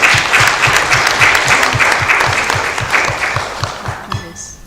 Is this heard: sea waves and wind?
no